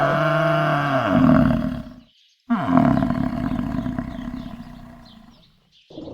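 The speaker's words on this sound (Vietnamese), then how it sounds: "Buffalo." A buffalo bellows twice in deep, loud, drawn-out groaning calls that fall in pitch, with a short silent gap between them and a brief pause before a third begins, with no voices.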